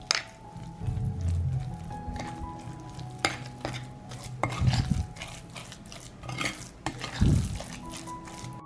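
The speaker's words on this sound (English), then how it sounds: "I will add 3 tablespoons of almond flour. I'll mix it all up." Almond flour being stirred into a wet mixture, with soft squishy stirring strokes and light clinks of a utensil against a bowl, broken by several louder thumps, close up with no talking.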